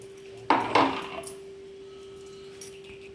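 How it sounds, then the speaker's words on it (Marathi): A spoon working ground paste through a metal tea strainer: two sharp metallic clinks close together, followed by a smaller tap and a later faint clink over a quiet background with a steady faint hum. "आता हे आपण गाळणीने गाळून घेणार आहोत"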